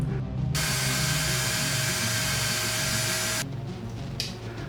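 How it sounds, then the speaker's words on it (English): A small drill bores a hole in a little model mount made from a razor part, a steady high whine for about three seconds that then stops. "All I had to do was drill a hole in the little mount I just built."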